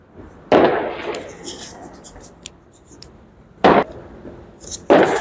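New Year fireworks going off in Georgia: three loud, sharp explosions spaced a few seconds apart, with scattered crackling and pops between them and faint voices in the background.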